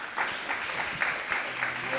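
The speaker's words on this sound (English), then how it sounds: "Let's give a round of applause for them." An audience claps for the sponsors at the opening ceremony of a Hindu youth summit in Guyana, a short, fairly quiet burst of mixed clapping with faint voices murmuring beneath it.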